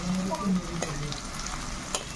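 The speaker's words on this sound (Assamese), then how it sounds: "এতিয়া পিঁয়াজখিনি প্ৰথমতে ভাজি লওঁ ধুনীয়াকৈ" Onions sizzle steadily in a hot pan, with a few clinks of stirring and a faint tonal hum underneath.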